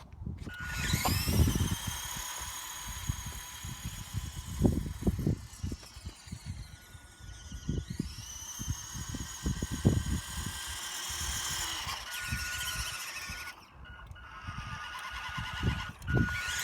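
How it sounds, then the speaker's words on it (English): Stock JJRC motor in a JJRC Q60 RC car during a speed test, a whining electric motor rising and falling in pitch as the car speeds up and slows, mixed with bumps and rattles from the car moving. "I've put the stock JJRC motor in, and we're going to give that a quick speed test now"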